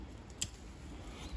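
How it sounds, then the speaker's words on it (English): A single crisp snip of scissors cutting back new growth on a juniper bonsai, one short sharp click in an otherwise quiet indoor setting. "So I'm going to go in and just take that back with a pair of scissors."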